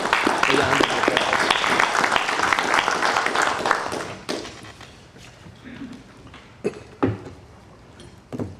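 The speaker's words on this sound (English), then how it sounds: "round of applause." School board meeting audience clapping for a retiring staff member, dense applause for about four seconds, then fading to a few scattered claps and thumps in a quieter room.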